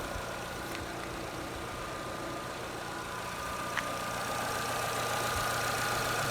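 A Jeep Renegade engine idles with all accessories switched on, a steady low hum that holds even and continuous throughout, with a faint tick or two.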